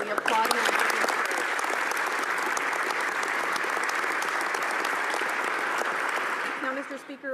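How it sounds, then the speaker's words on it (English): Members of the House of Commons applaud for several seconds: loud, sustained, dense clapping that fades out near the end, where a voice begins speaking. "And we applaud him for his courage."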